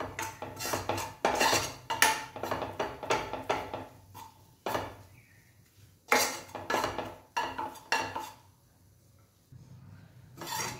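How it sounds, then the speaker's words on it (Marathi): A spoon stirs gram flour roasting in oil in a kadhai, making bursts of rhythmic scraping and rubbing against the pan with short pauses between, close and without voices. "त्यात मी हा जो बेसन घेतलेला आहे त्याला मी भाजून घेणार आहे व्यवस्थित, थोडंसं लालसर होईपर्यंत।"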